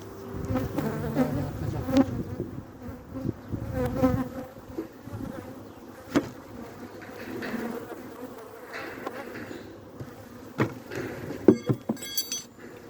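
Honeybees buzzing around a weak beehive recovering after cold weather, a steady close insect drone with brief clinks and knocks as the hive is handled.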